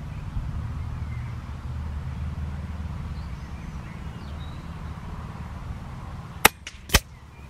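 Daystate Huntsman Regal air rifle firing pellets at a target outdoors, two sharp, close cracks near the end after quiet background wind and faint birdsong.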